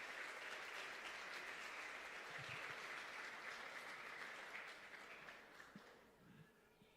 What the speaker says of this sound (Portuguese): Eu gostaria que vocês aplaudissem o Senhor Jesus na vida do meu querido amigo bispo.